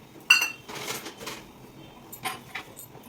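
A spoon clinks and scrapes against a pot while a cup of sugar is stirred into boiling milk, a sharp metallic tap followed by several softer scraping strokes, close and moderately quiet with no talking.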